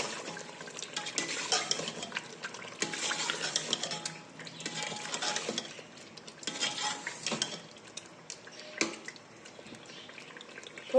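Cream being stirred into aloo palak (spinach and potato curry) in a pan: steady scraping and stirring of a spoon against metal with a soft background sizzle, fairly close, no talking.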